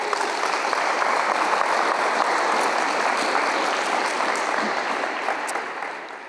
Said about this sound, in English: So give a warm applause.